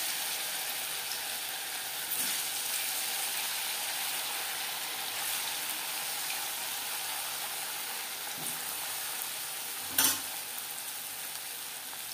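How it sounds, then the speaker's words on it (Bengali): Moong dal puli pitha frying in hot oil, a continuous close sizzle with soft bubbling, broken by a brief louder clatter near the end. "এইভাবে প্রত্যেকটা পুলি পিঠা ভেজে নেব।"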